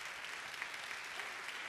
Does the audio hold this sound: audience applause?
yes